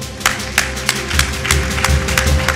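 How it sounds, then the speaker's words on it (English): An audience at a 2012 year-end review event gives a round of applause for the president, a full crowd clapping steadily, with a few sharper individual claps standing out near the front. "This president deserves a round of applause for that."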